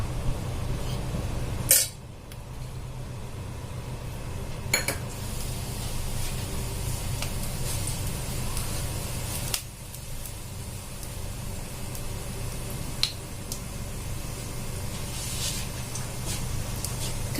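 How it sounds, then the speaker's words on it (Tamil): Mustard seeds crackling in hot oil in a kadai while preparing Tamil-style attu kaal paya (goat trotter curry): a steady dense sizzle with scattered sharp pops and clinks of a pan, close by, no talking. "கடுகு பொரியட்டும்."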